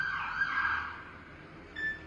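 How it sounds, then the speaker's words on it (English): A car alarm blares with a steady, piercing electronic wail, loud and close, holding a continuous tone before a brief rise near the end, with no voices over it. "that's my alarm"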